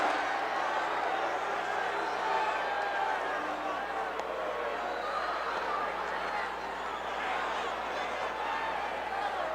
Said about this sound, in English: Listen to the roar of this capacity crowd